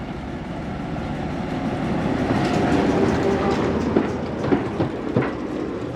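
Steam locomotive 5526 and a Class 09 diesel shunt at Buckfastleigh, heard as a steady rumble of rolling stock with clicking wheels and a few sharp metallic knocks and squeals toward the end.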